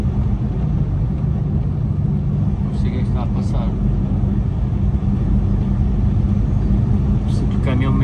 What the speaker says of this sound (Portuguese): No andamento do caminhão estou com uma sensação esquisita.